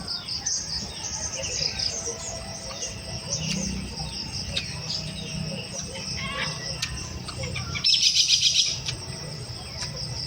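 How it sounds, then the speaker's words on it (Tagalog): Birds chirp and tweet outdoors over soft background noise, with a brief, louder burst of calls near the end. "Grabe ibon."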